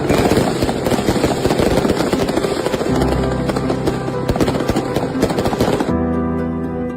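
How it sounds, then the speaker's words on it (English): Fireworks bursting at a huge bonfire in Sandy Row, Ulster, with a crowd of about 20,000 around it, a loud rapid crackling barrage of overlapping pops and bangs that cuts off abruptly near the end. "look at that thing in the Sandy Row with the fireworks"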